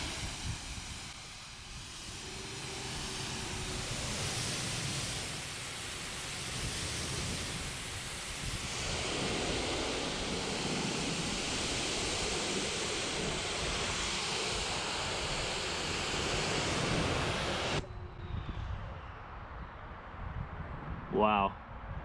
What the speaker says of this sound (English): let's go ahead and see how some water sheets off this thing.